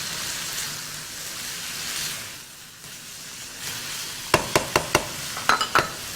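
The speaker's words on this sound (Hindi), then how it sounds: "लहसुन अदरक का पेस्ट शामिल करने के बाद आपने अच्छा सा मिक्स करना है" Garlic ginger paste being stirred into minced meat frying in a pan for qeema karelay, a steady close sizzle under a series of sharp scraping and tapping strokes near the end, no talking.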